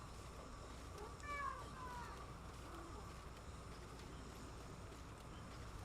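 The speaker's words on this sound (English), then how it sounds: "Yeah, it is a cat." An orange cat gives a brief meow near the start, faint and close, over a steady low background noise.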